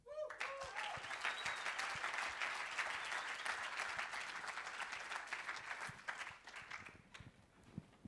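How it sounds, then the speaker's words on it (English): Sustained audience applause at a startup demo day pitch event in Australia, a dense steady wash of clapping from a sizable crowd that thins out near the end, with a few voices mixed in. "I've never seen people clapping so much for a tail-ender."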